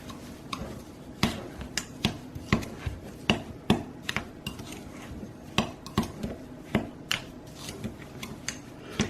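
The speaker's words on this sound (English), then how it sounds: "And we are just going to mix this together" A utensil scrapes and clinks against a bowl while lavender sugar scrub is stirred, giving a steady series of sharp taps and scrapes at close range with no talking.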